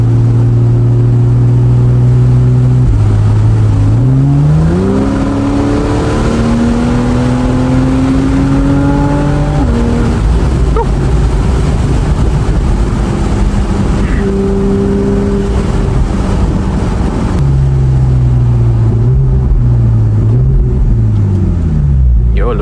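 Porsche 911 driven hard in pursuit of a BMW M4 on a public road, engine droning and climbing through gears with a steady loud cabin roar, shifts audible as pitch drops, while someone talks excitedly over it.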